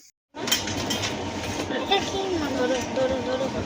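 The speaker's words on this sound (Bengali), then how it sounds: "ট্রেনটা কিন্তু বেশ দ্রুত গতিতেই ছুটে চলেছে" A train running fast, steady rolling rumble and rhythmic wheel clatter beginning abruptly and continuing loud and close, with brief squealing tones and some talking in the background.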